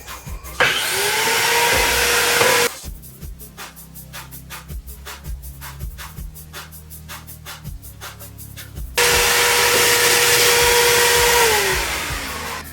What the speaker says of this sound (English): I'm going to suck all the sawdust out with the shop vac